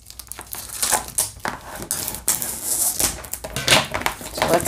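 A diamond art kit being unwrapped from its plastic packaging, with close crinkling and crackling bursts of plastic that come in irregular handfuls across the clip, with no talking.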